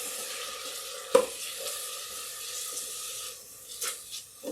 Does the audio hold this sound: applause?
no